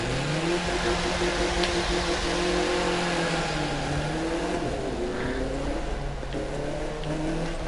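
An Audi's engine in The Crew 2 holds a steady mid-pitched drone with slowly shifting revs, continuous and fairly loud, like cruising at speed, with no talk.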